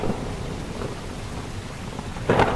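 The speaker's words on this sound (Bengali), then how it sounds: "আরো জোরে, আরো ঘন ধারায় পড়ছে বৃষ্টি।" Heavy rain pours steadily as a sound effect, with low thunder rumbling underneath and a louder thunder crack near the end.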